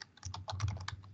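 Quick, light keystrokes on a computer keyboard, a close rapid run of clicks with no talk.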